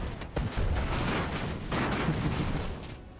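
Explosions and gunfire from the airship battle game Airships: Conquer the Skies, a dense, continuous rumble of blasts and bursts that stays loud through the whole stretch, with no talking.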